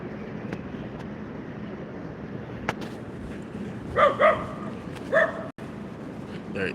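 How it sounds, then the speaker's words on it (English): Dogs barking outdoors on a New York City street walk near Battery Park in Manhattan: a few short yelping barks in quick pairs, moderately distant, over steady street ambience. "That's why the dogs are barking"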